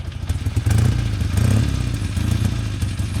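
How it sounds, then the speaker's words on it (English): A motorcycle engine rumbles steadily and loudly nearby, with a low throbbing drone and slight revving swells throughout. "It's a motorcycle and it's a vehicle."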